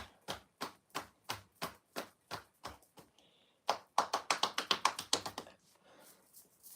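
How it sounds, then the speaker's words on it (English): Hands knock on the legs during a guided meditation movement exercise: a steady series of evenly spaced, close taps, a short pause, then a quicker, louder burst of knocks that fades out. "I'm going to knock them on the outside, on the inside"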